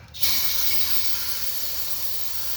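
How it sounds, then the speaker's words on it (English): Brake cleaner aerosol sprays onto the lifters of a GM LS engine. After a brief quiet start it becomes a steady, loud, close hiss that holds for a couple of seconds. "Let me hit that with some more brake cleaner"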